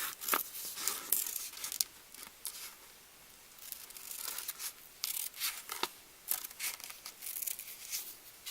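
Scissors snip and rustle through paper while a sewing pattern is cut out, with a run of crisp, irregular cuts and crinkles, fairly close and quiet, and no voices.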